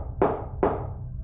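Two distinct knocks on a door, close and fairly loud, spaced about half a second apart, standing alone in quiet as a sound effect for a spooky story about a locked room.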